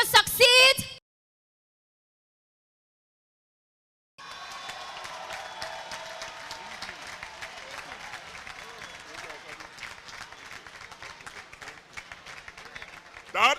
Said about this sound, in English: Let's continue the applause